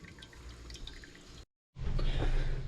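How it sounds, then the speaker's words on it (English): Whey drips from a draining bag of homemade farmer's cheese in quick, irregular little splashes, then stops for a moment before a louder, fuller watery trickle follows. "Just leave it for an hour and just let it drip."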